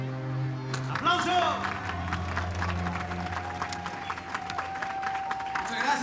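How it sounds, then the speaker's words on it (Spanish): An audience breaks into sustained clapping that starts about a second in and carries on at a steady, moderate level under a voice speaking. "¡Aplauso!"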